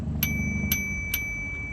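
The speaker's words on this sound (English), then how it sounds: "I ended up putting a bike bell on the bike" A slimline bell mounted on a bicycle handlebar rings three evenly spaced bright dings, close and clear over low outdoor rumble on a trail.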